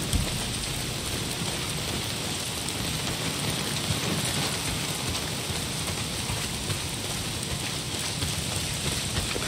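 Steady rain falling in the video game Days Gone, a dense even hiss of drops on surfaces that holds unchanged throughout, with no voices.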